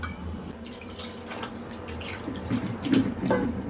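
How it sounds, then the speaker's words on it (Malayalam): Water pours and trickles into a cooking pot, a soft steady splashing that swells briefly near the end, close by and fairly quiet. "ഇത് കുറച്ച് വെള്ളം ഒഴിച്ചാൽ വയ്ക്കണം കേട്ടോ നമുക്ക് വെള്ളം ഒഴിക്കുന്നത്"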